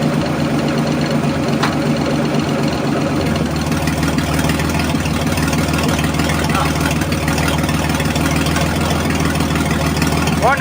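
The engine of a Nissan 300ZX Z31 idles steadily after being fired up following a rebuild, its low, even drone holding for about ten seconds with a slight rattle.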